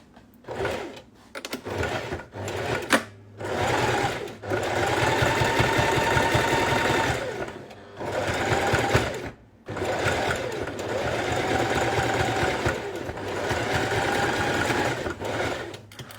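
A sewing machine sews a zigzag stitch, running in rapid mechanical bursts with short pauses between them, and one long steady run in the middle.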